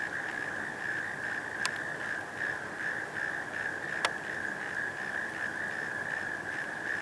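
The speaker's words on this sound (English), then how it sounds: "I think those are frogs." Frogs calling at a park in Louisiana, a steady high-pitched chorus droning on continuously beneath a couple of sharp clicks.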